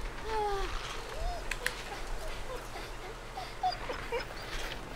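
A dog eating beans in a video game, with soft whimpers, yips and chewing noises at moderate distance over a low background hum, scattered and irregular, no clear speech.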